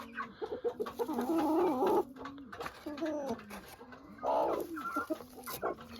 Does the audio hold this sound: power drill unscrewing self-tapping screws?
no